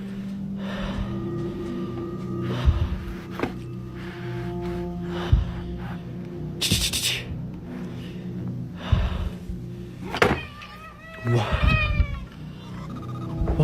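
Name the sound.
cats meowing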